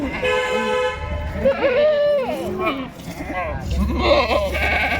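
Kathiawadi goats bleat repeatedly in wavering, drawn-out cries, fairly close, with people talking over them and a low rumble underneath.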